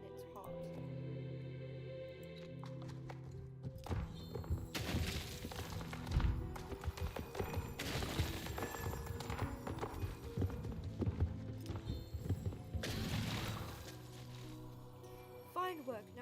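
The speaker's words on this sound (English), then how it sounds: "You need to charge it with your horse towards your target." A horse gallops in a lance charge in a video game, with rhythmic hoofbeats, heavy thuds and clinking impacts building to loud crashes, backed by music and a voice talking.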